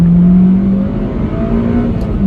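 Engine of a Honda Civic Type R EP3 hot hatch revving hard into VTEC, a loud sustained high-revving drone heard close, with a steady pitch and a brief dip midway.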